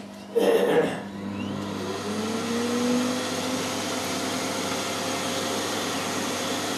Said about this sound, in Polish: To jest nasza suszarka